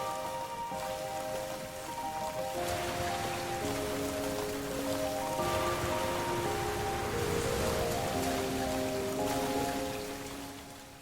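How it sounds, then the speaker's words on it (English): Soundiron Rainsong plugin rain ambience: a continuous soft hiss of falling rain on surfaces, layered under slow, sustained melodic tones that shift throughout. "And you hear the rain already in there."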